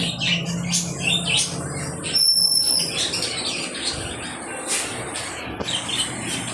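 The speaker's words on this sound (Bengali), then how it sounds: "আওয়াজটার সাউন্ডটা সুন্দর পাইতেছেন না। টিয়ে পাখি, টিয়ে পাখি, বাজিগার পাখি" Many budgerigars chirp and twitter continuously at close range, with overlapping high tweets and occasional squawks and wing flutters.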